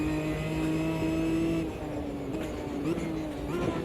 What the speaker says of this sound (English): You can't beat the sound of a 45 induction.